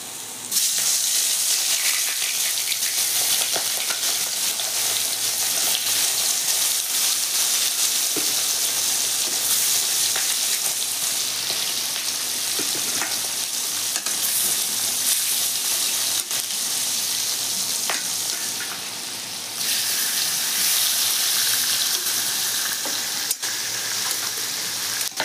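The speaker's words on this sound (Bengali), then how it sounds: "মাছ ভাজার তেলটা গরম হয়ে গেছে, একে একে মাছটা ভেজে।" Fish fries in hot oil for a Bengali-style fish curry, a steady close sizzle and crackle that keeps up throughout, with occasional stirring clinks and no talk.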